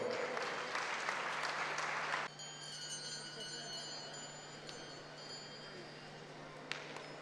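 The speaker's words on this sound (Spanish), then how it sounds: "Un aplauso para él, por favor." A short, faint round of clapping at a Spanish-breed horse show greets the owner of a European champion horse, lasting about two seconds before dropping into a quiet hall with light background murmur.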